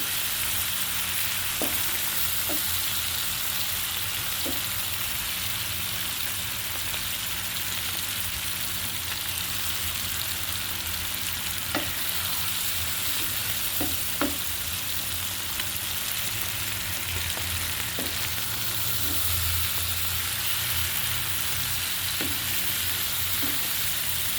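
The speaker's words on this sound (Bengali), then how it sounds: "এখন আমি দিয়ে দিচ্ছি মাছগুলো। মাছগুলো সুন্দর করে আমি এভাবে কষিয়ে নেব।" Large hilsa fish pieces, from a roe-laden 1.5 kg fish, fry steadily in spiced oil, with a continuous sizzle and occasional light clicks of stirring throughout, close and fairly loud, with no talking.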